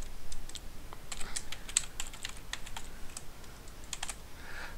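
Computer keyboard typing on a nearby keyboard while working in a plotting program, a run of quick, light key clicks in irregular bursts, with no talking.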